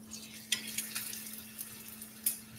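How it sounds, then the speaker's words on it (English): A tortilla warms in a hot pan with a faint, steady sizzle, broken by a few sharp clicks and scrapes of utensils against the cookware, heard alone with no talking. "This tortilla is warming up"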